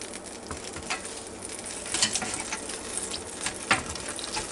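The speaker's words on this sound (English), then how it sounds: "It's still sizzling." Pork baby back ribs fresh out of a Ninja XL Pro air fryer oven keep sizzling, a steady faint crackle and patter with a few sharper pops, heard up close with no talking.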